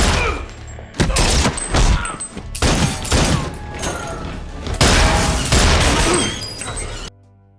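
Rapid bursts of gunfire from a film gunfight between gangsters, loud and dense, with shots crackling in clusters over about seven seconds before cutting off abruptly; faint voices may sit beneath the shooting.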